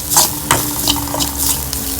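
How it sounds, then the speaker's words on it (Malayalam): Grated coconut roasts in a hot pan for thaalagam, giving a soft continuous sizzle broken by several sharp scraping stirs of a spoon, close and without talk. "തേങ്ങ നല്ലപോലെ ചോക്കനെ വറുത്തിട്ടുണ്ട്"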